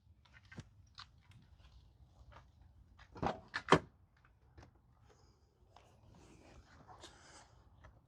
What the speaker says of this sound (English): let's reinstall the door panel